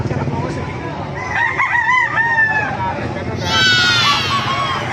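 A Gilmore gamefowl rooster crows nearby, with a second strained crow following, and other fowl and light background chatter around it outdoors.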